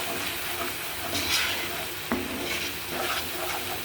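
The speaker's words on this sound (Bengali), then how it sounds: "এটা রান্না করছি প্রথমে নেড়ে নিচ্ছি সুন্দর করে" A spoon stirs ground coriander and other spices in a hot cooking pan over a steady hiss of sizzling, with a brief scrape partway through.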